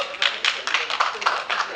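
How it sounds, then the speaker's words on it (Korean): Scattered audience applause at a general meeting of elders, a handful of distinct claps in uneven rhythm, fairly quiet and mixed with room murmur. "이제 박수도 나오고"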